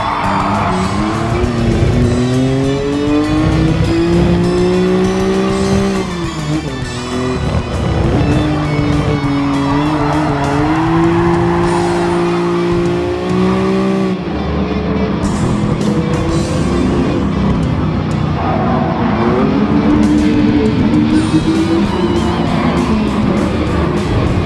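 A Ferrari Dino 246 with a 2.4-liter V6, driven in the GT Sport racing game, revs loudly and continuously, its engine note rising and falling through gear changes with tire squeal at corners.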